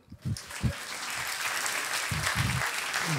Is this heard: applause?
yes